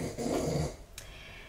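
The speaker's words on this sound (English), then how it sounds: "my dog is in here with me, so if you hear any grunting" A short-nosed female pug indoors on a hot day, air conditioning running, gives a soft snuffling grunt and snort, faint and close, then goes quiet.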